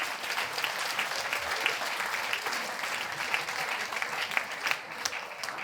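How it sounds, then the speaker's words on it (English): A room full of people applauds steadily for several seconds at a launch event, dense overlapping clapping holding a constant level with no voices over it. "can we get another quick round of applause for all those incredible people?"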